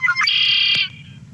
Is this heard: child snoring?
no